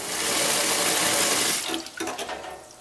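Hot tap water gushes loudly into a tub, a steady dense rush that cuts off partway through, leaving a few faint clinks and drips.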